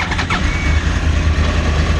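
Genuine Honda Zuma scooter engine, recently crashed, catching and settling into a steady idle: a brief start transient, then a loud, close, continuous buzzing run with no voices.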